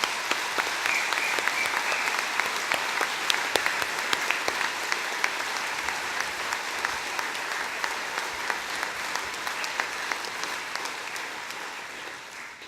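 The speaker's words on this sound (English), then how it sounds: "Let's give them a round of applause." Audience at a university degree ceremony in a hall, giving sustained, moderately distant applause with crisp individual claps, slowly fading toward the end.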